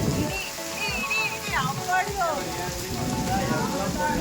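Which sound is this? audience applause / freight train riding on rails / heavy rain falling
heavy rain falling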